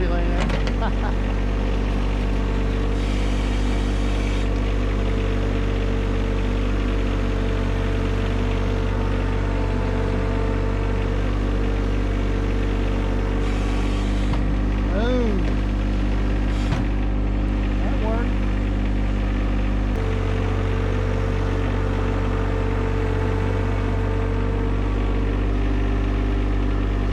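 A John Deere 1025R compact tractor plowing snow over a gravel drive, its engine droning steadily and close throughout with a shift in tone partway, plus faint scraping and creaks.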